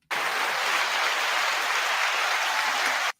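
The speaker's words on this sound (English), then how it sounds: "Give yourselves a round of applause." Dense, even clapping, like a recorded round of applause, that begins abruptly, holds at a steady level for about three seconds and then cuts off sharply.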